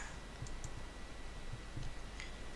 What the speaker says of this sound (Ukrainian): Я виберу зразу кілька файлів, це будуть картинки. Я їх виділяю і натискаю Відкрити.